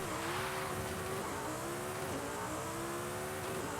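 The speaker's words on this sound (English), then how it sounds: "So we're gonna do a full RPM launch." A 950 hp 2016 Audi R8 V10 Plus in Forza Horizon 5 launches at full revs, its engine screaming loud and steady while the pitch climbs and dips through gear changes, with a hint of tire squeal.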